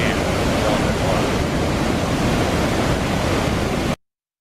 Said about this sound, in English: This is where the water goes over the